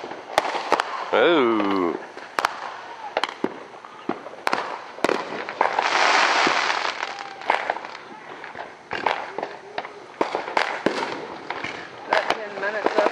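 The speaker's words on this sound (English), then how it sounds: "Got 10 minutes of fireworks shooting action." Fireworks burst in a rapid series of sharp bangs and crackles, with a whistling launch and a longer sizzling spray midway, while onlookers exclaim softly in between.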